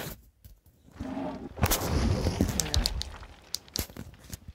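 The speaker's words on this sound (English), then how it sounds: "Oh yeah, I got that golden minigun" A golden minigun firing in Fortnite, with dense rapid bursts of gunfire and crackling impacts running through the middle of the clip and scattered sharp shots toward the end, loud and close.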